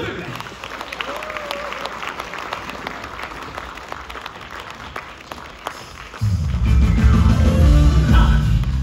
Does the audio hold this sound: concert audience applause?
yes